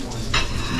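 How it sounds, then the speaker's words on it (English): Breakfast sizzling on a hostel grill at a hiker hostel on a rainy morning, a steady close frying hiss with a brief louder scrape or stir partway through. "slaving away on the grill"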